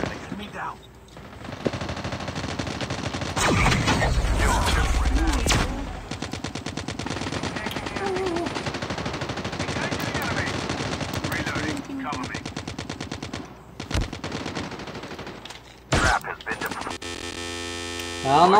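Rapid machine gun fire from the mobile shooter Call of Duty: Mobile Standoff comes in sustained bursts over a constant electronic hum, with short breaks and a few sharp transitions.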